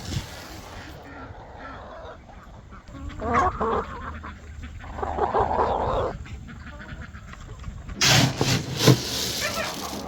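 Geese and ducks honk and quack in irregular bursts nearby, with some louder calls rising over a noisy outdoor background.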